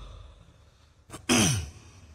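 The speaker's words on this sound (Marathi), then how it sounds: "काहीतरी खोकला सुरू झाला मला" A man at a political rally clears his throat and coughs: a short rasp, then a louder, harsher burst lasting about half a second, close to the microphone over faint background hum.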